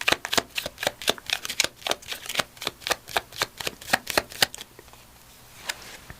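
A deck of Language of Flowers affirmation cards is shuffled close by in a quiet room, a quick run of sharp, riffling card snaps that slows and fades into a few soft taps near the end.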